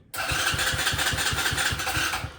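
A Tao Tao 110cc engine fitted in a KX 60 pit bike frame fires up on its electric starter and settles straight into a loud, steady, rapid chugging idle, with no voices.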